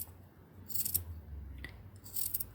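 Scissors trimming back a fabric seam on a sewn bralette, a few quiet, close snips with soft crisp cuts over a low room hum.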